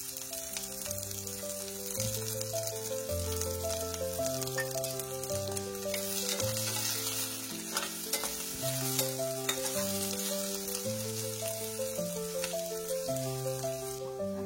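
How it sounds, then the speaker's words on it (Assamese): Chopped onions frying in hot mustard oil in a wok for a pork curry give a soft, steady sizzle that runs the whole time beneath louder background music. "মিঠাতেলখিনি গৰম হ'বলৈ দিছো লগত মই এতিয়া কাটি থৈ দিয়া পিয়াজো দি লৈছো"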